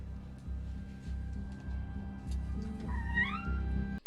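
A cat gives a single brief rising meow from a film scene near the end, heard faintly over a low background hum and ambient room noise.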